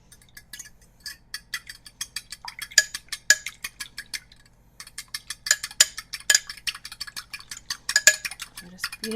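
A fork beats egg wash with a little water in a bowl, making quick, rhythmic clinking taps against the bowl in close bursts with a short pause midway.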